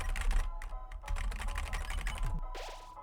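Rapid bursts of computer keyboard typing during an Undertale gaming session, with crisp keystrokes close by and short pauses between flurries, no voices.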